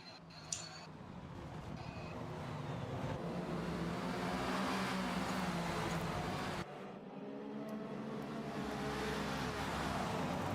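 GT race cars roaring toward the final corner in a three-hour sunset endurance race, a sustained engine drone swelling and shifting over about ten seconds with a brief dip midway.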